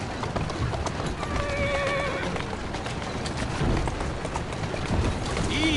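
In Assassin's Creed Syndicate, a carriage horse's hooves clip-clop rhythmically on street paving while the horse whinnies, over constant rolling street noise and brief talk.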